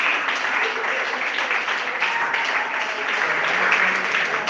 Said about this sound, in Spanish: Démosle un aplauso al Señor porque Él es bueno.